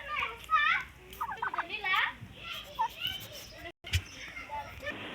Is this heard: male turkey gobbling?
yes